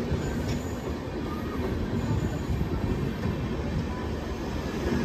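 The Pawan Express passenger train rolls along the rails with a loud, continuous rumble and rattle of wheels and carriages, close by and steady throughout.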